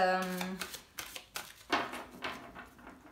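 Tarot cards are cut and shuffled in quick riffling bursts and soft slaps, close and crisp, with a French-speaking voice briefly heard at the start.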